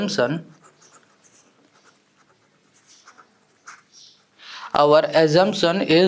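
Marker or chalk strokes on a board while a Class 10 real-numbers proof is worked out, faint scratchy writing in a quiet gap between stretches of speech.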